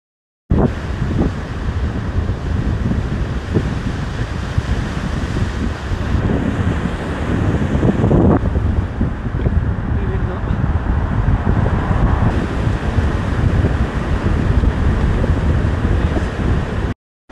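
Wind and ocean surf roll steadily at a seaside campsite in Korea at dusk, a loud, continuous broadband roar with gusty buffeting against the microphone throughout.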